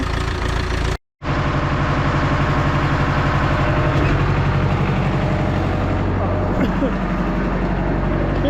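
A Ursus tractor engine idles steadily at about 1200 rpm on a snowy day, a loud, close, continuous low rumble with regular firing pulses, briefly cut off near the start, then running on unchanged.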